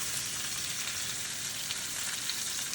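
Oxtail pieces brown in a pan for a stew, a steady dense sizzle and crackle of frying meat holding at an even, fairly close level throughout.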